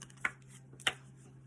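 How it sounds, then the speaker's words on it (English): Two brisk papery riffles of a tarot card deck, well spaced, over a low steady hum, with no talking. "Shuffling. Shuffles well."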